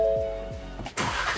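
A 2021 Ford Bronco with the 2.3L engine cranks with a few rhythmic starter pulses, then fires and settles into a loud, broadband running roar up close.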